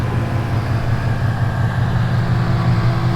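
A 2017 Ford Mustang GT sits idling while its radiator cooling fans whir, a steady low engine hum blended with a constant broadband fan rush, close and fairly loud with no variation and no speech.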